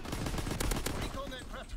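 Video game gunfire aimed at the player, with dense rapid shots through a wall in a loud, sustained burst and overlapping game effects, close and continuous throughout.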